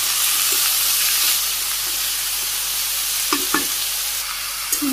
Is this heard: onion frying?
yes